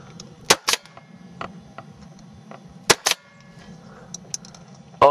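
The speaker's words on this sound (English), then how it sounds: "Watch what happens when I shoot the paintball." A paintball gun fires at a scarecrow outdoors: a few sharp, snappy pops in quick pairs, then another pair a couple of seconds later and a final one at the end, close and clear over quiet background hiss.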